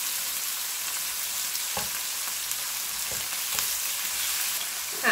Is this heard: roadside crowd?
no